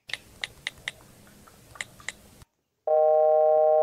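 A telephone dial tone on a phone call: a loud, steady electronic tone that begins after a brief silence, preceded by scattered clicks and taps.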